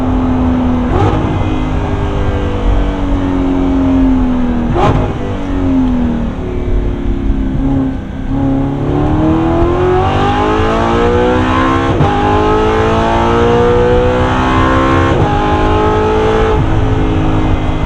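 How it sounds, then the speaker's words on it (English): An Audi R8 V8 with a modified exhaust revs hard and loud, the engine note climbing and dropping through repeated pulls with sharp crackles between, close and continuous for the whole stretch. "I literally cannot stop hyping the exhaust enough because it has transformed the car so much."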